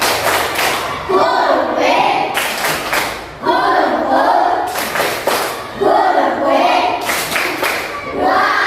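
A group performs the tepuk wow clapping chant in repeated bursts, sharp unison claps and stamps alternating with loud shouted voices in a steady rhythmic cycle.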